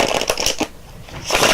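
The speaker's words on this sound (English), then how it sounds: "And then I like to shuffle between the two" Tarot cards shuffled by hand between two halves of a Celtic cross spread, crisp riffling bursts in quick close succession, a pause, then more rustling near the mic.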